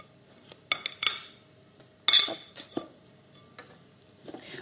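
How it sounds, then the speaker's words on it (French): A knife works through 60 g of butter on a hard surface. Sharp clicks and metallic clinks of blade against board come in irregular bursts, close and crisp, with quiet pauses between them. "60 g de beurre que je vais couper"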